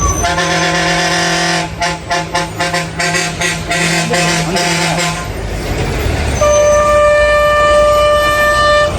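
A lorry climbs a mountain hairpin road, its loud engine droning and horn tooting, then passing with a rush of noise before a steady tonal whine takes over.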